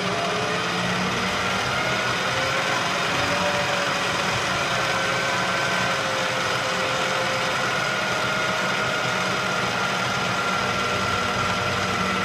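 A machine spindle turns at 1200 RPM while an insert boring bar is being made, giving a loud, constant mechanical whine and hum that stays steady throughout with no talking.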